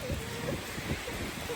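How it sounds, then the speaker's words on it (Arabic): Rain pouring down during a storm, heard as a steady, dense hiss with a faint low murmur beneath it. "طبعا كبست علينا مطر."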